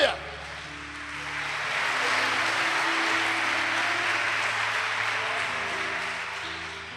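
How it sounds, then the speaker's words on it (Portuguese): Church congregation applauding Jesus during a Brazilian worship programme: a swelling wash of clapping that rises after a moment and holds steady, with a low musical tone underneath. "Você pode aplaudir Jesus por isso?"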